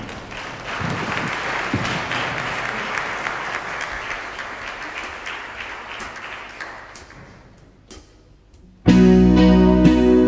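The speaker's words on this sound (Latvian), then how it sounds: "Sagaidiet ar aplausiem" Audience applause welcoming a performer at a Christmas show in Rundāle Palace, a dense, loud wash of many hands that thins and fades over several seconds before music abruptly starts.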